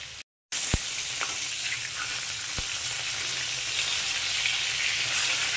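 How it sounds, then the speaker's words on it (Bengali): Pieces of catla fish fry in hot oil with a steady, dense sizzle and crackle close by, broken by a few sharp utensil taps as they are moved in the pan, no voices. "এবার ওই একই তেলের মধ্যে আমি মাছগুলোকে ভেজে নেব"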